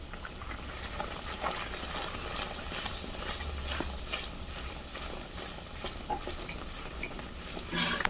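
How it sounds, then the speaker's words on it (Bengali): Nanpuri breads deep-frying in oil while being pressed gently with a spatula, a continuous quiet bubbling sizzle with small crackles, close by and fairly faint, with no voices. "দেড় থেকে 2 মিনিট সময় দিয়ে ভালোভাবে নানপুরিগুলো ভেজে নিতে হবে।"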